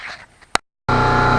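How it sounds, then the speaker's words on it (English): An air compressor building up pressure breaks in after a short silence, a loud, steady broadband roar that holds at full strength to the end, following faint background noise and a single sharp click. "my air compressor building up"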